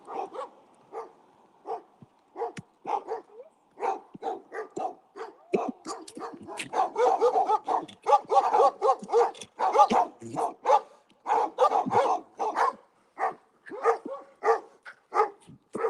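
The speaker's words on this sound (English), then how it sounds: "They're barking already." Several German shepherds barking repeatedly nearby, sharp overlapping barks in quick irregular bursts that grow denser and louder midway, with no talking over them.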